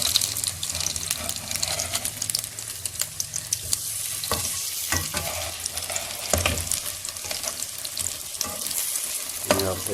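Chicken shami kababs frying in oil over a low flame, a continuous crackling sizzle with scattered louder pops and spits, close and steady for the whole stretch.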